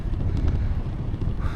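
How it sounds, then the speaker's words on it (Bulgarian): A strong headwind buffets the microphone during a long-distance Danube cycling ride on a paved road, producing a steady, loud low rumble with no voices. "Имаме насрещен вятър."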